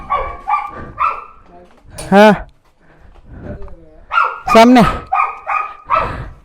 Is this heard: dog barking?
yes